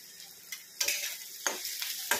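Fried onion and turmeric being stirred in a pan for a bhaji, soft frying under a few sharp spatula scrapes and taps at uneven intervals.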